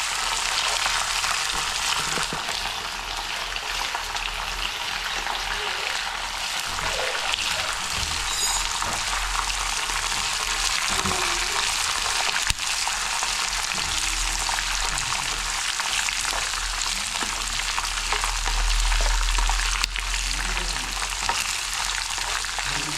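Green chillies frying in hot oil for tamarind rice: a continuous, even sizzle with occasional stirring clicks, close and fairly loud, with no talking.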